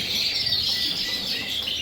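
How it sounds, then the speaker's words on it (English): Canaries and native finches chirp and twitter continuously in a bird room, a dense, steady wash of high bird calls close by with no talking. "what I have here in Davidsbirdroom is coloured canaries and native finches"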